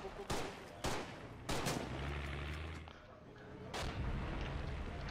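Mortar and artillery fire in the video game Foxhole, a run of loud, sharp blasts spaced a second or so apart, followed by a lower rumbling tail and another heavy boom.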